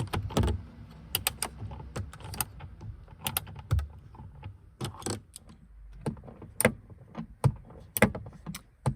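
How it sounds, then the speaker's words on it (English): A wrench works screws out of a Saab 9-5 rearview mirror, giving sparse, sharp metallic clicks and ratcheting taps separated by quiet pauses, close by. "take these 3 screws out, and in this case I need to use my wrench"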